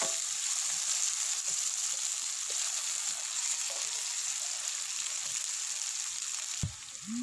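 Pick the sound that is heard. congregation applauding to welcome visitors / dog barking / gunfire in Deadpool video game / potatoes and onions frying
potatoes and onions frying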